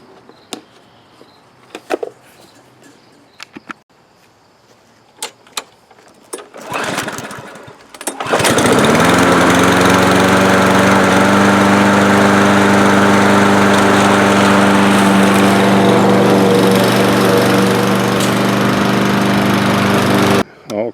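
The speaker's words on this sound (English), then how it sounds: "just got done mowing the grass" After scattered clicks and clunks, a 139cc Powermore lawn mower engine sputters to life and settles into a loud, steady roar that runs continuously to the end.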